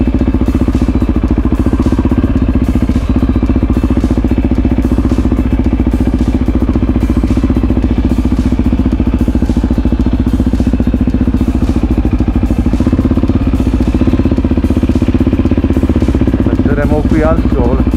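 Motorcycles rumble loudly and steadily at close range as they pull into a parking spot beside kiosks near a eucalyptus forest in Sardinia, with engine clatter and talk running over the top.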